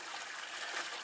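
Maple sap pours from a plastic jug in a steady, soft trickling stream of liquid, with no voices.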